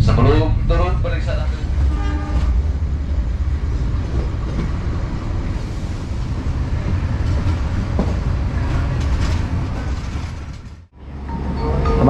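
A passenger train pulls into Bandung station, its loud continuous rumble and clatter filling the platform with a short horn toot early on, while people talk under the noise before it briefly cuts out.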